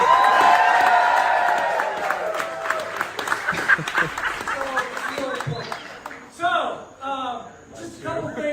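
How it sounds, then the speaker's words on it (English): Audience applause and cheering with whoops at a sports department event marking UCF joining the Big 12, loud and sustained at first, then fading as voices begin talking over the dying claps. "let's give a round of applause for our fearless leader, Dr. Carter."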